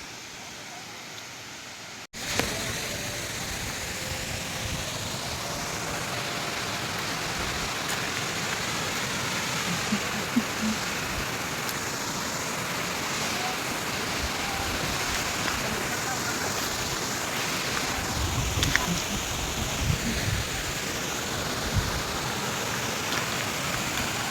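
Water pours continuously at Suasari waterfall, a steady broadband roar that stays close and even for the whole stretch after a brief quiet opening, with small bursts rising through the wash.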